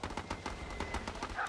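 Rapid machine gun fire in the video game Battle Islands Commanders, a dense, steady string of bursts rattling continuously across the short stretch, loud and close, with no talking over it.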